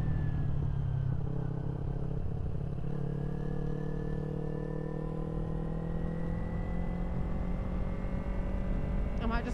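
A motorcycle exhaust drones steadily while riding, a low, continuous engine note that slowly rises in pitch through gear, moderately loud and near with no break.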